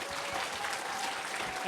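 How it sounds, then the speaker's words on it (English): Audience applause at a teen pageant and charity gala rings out for the contestants, a continuous dense patter of clapping at moderate level across the short span. "Let's give them another round of applause, everybody."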